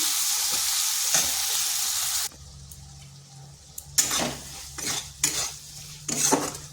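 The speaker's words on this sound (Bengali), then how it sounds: "এইভাবে বেশ কিছুক্ষণ একটু কষে নিচ্ছি।" Tomato with salt is sautéed in a pan, a loud sizzle at first, then quieter frying broken by several sharp scrapes and clinks of a utensil stirring against the pan, close by and without talk.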